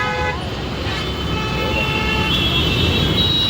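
Busy road traffic in Pune: a steady roar of cars and trucks with repeated car-horn toots cutting through, loud and close throughout.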